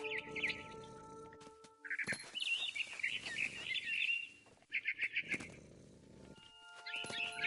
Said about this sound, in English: It was a barn swallow going back to her nest.